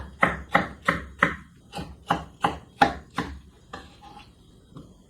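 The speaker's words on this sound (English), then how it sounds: "And spring onion and slice." A knife slices through spring onion on a cutting board for a Korean doenjang jjigae, giving about nine crisp, evenly spaced chops close up, then a couple of softer taps.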